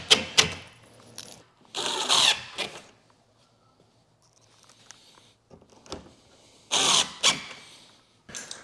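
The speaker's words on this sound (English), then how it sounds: "we just shot wood screws in here and glued this as well" A power drill drives wood screws into a kitchen cabinet frame in short whirring bursts with squealing pitch, separated by quiet gaps, close and alone.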